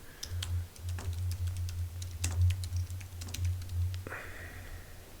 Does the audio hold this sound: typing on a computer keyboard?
yes